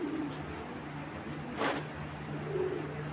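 Racing pigeons at a breeding loft give soft, low cooing calls at a distance, a couple of faint coos over a quiet background hum.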